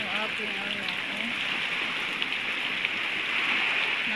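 Heavy storm rain pours in a dense, steady hiss, with a voice talking faintly over it at the start.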